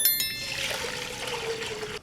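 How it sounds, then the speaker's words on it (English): A big pot fills with water from a tap, opening with a couple of metallic rings before a steady pouring rush whose pitch slowly shifts as the pot fills. "grab a big pot, set that flame to high, fill it up with water."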